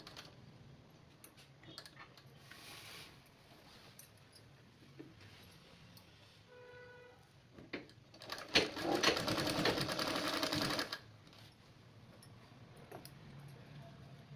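Sewing machine stitching along a saree border, a single run of a couple of seconds rising over a quiet room with faint handling ticks before and after.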